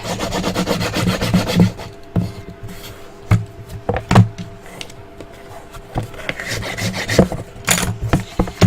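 A folded paper flap on a handmade box album is burnished, with close, repeated dry rubbing and rasping strokes in uneven bursts and brief pauses between passes.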